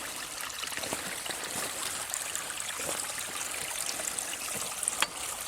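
A hand-dug spring creek trickles and babbles in a gravity-fed irrigation channel, a soft continuous flow with small splashy gurgles throughout, fairly quiet and close, with no talking.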